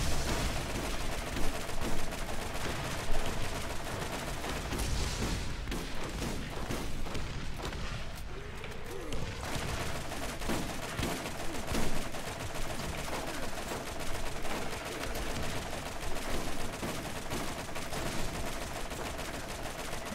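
Rapid, dense gunfire from the video game Borderlands in co-op play, with shots rattling steadily through the full twenty seconds with only a short lull midway, loud and continuous with no talking.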